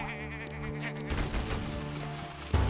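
Sheep bleating in the platform game Tak and the Power of Juju, a wavering cry heard over background game music and effects, with a sharp thump toward the end.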